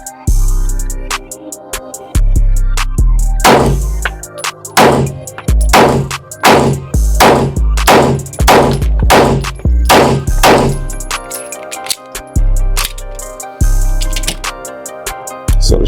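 Pistol shots from a Shadow Systems CR920XP fired in a headshot drill from the low ready: a loud, close string of about eight sharp cracks with ringing tails, in a fast, uneven rhythm.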